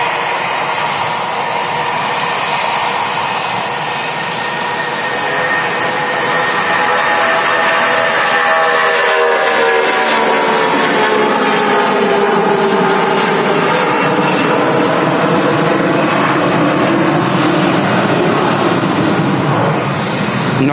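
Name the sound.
Jet2 Boeing 757 taking off down the runway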